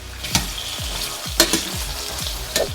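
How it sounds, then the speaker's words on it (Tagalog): Steady hiss of carrots and potatoes frying in a pan for beef mechado, with periodic scraping stirs and clinks roughly once a second. "piniprito ko muna tong carrots and potatoes"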